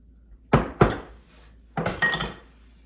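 Granulated sugar spooned into a one-cup measuring cup: two close, sharp clinks of the spoon, a pause, then a longer rattling pour and scrape, all near and clear, with no talking.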